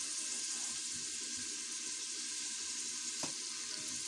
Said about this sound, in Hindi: ये आप देख सकते हैं ये हमने कैरेट को भी फ्राई कर लिया है।